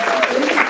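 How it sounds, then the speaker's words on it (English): Audience applause at an Arab women's poetry and arts event in 2023, a brief steady patter of many hands clapping that fills the whole moment, with a voice briefly mixed in. "Give them a round of applause."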